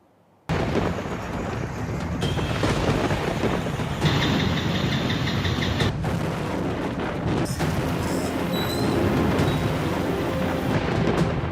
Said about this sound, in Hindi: मध्य प्रदेश के कई हिस्सों में बारिश कहर बरपा रही है